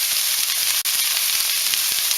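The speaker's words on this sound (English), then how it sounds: "When you hear that sizzle and bubble, that means your pan is hot enough." Tex Mex skillet ingredients sizzling in a hot pan for a keto dish, a loud, dense, continuous crackling hiss with small pops throughout, close up and with no voices.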